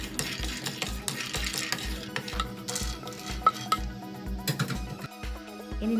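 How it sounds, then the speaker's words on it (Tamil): Almonds are dry-roasted in a pan at home with repeated stirring, giving rhythmic scraping and rattling strokes of nuts and utensil against the pan. The strokes come at a steady pace, close by, with no talking. "அதே மாதிரி இனி ஆல்மண்டையும் ரோஸ்ட் பண்ணி எடுத்துடலாம்."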